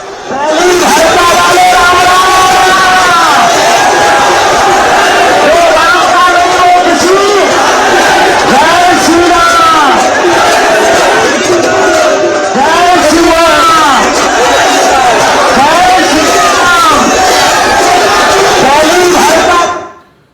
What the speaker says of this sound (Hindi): रात का वक्त है और हजारों की भीड़ उनके साथ चल रही है हिंदू राष्ट्र के लिए पदयात्रा